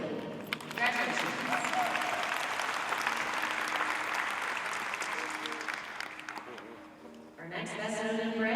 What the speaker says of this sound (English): Let's have a big round of applause for our best known bred Holstein, Winnie Oldview Chantilly